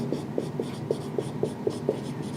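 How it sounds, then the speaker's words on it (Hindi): Marker or chalk strokes on a board during a biology lecture, eight or so short scratchy taps in a steady rhythm, close and fairly quiet, with no talk over them. "यहां पे मैं लिख देता हूं"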